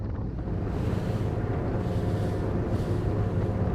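Engine roar and rushing water from a Salpa Soleil 33 motorboat as the throttles are pushed up and it gathers speed, heavy wind buffeting throughout, loud and steady with no talk.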